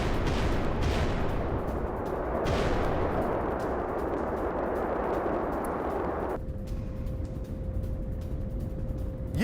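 Amphibious armored vehicle firing at sea, heavy booming blasts rolling into a dense, roaring rumble of gunfire, loud and sustained, with a steady tone entering near the end.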